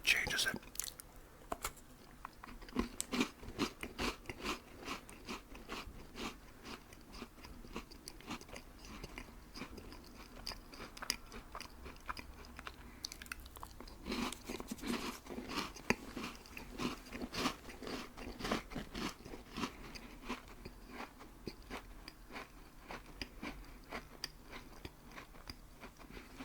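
Crispy, chewy, crunchy filled cookies being eaten close to the microphone, with repeated bites followed by steady crunching and chewing over a long stretch, soft and intimate, with a brief quiet whisper.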